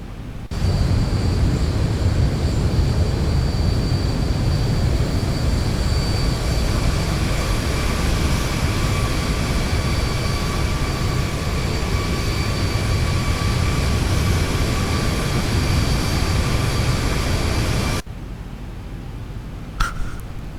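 Airliner jet engines drone inside the X-Plane 11 flight simulator, a loud, steady roar with sustained whining tones that holds unchanged for most of the stretch before dropping abruptly to a quieter hum.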